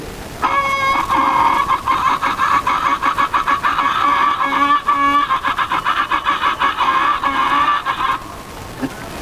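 A voice imitates a hen clucking before laying an egg, giving a loud, close, rapid string of pulsing clucks that lasts about eight seconds.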